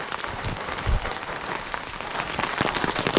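Heavy rain in the mountains of Mukteshwar pours down as a dense, even wash of close patter, holding steady at moderate loudness with no voices.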